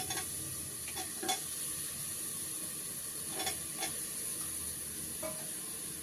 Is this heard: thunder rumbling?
no